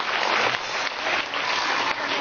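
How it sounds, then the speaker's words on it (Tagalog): A Filipino audience applauds at a talk, a dense, steady wash of clapping hands that holds at an even level throughout with no voices over it. "Pumalakpak po yung mga Pilipino."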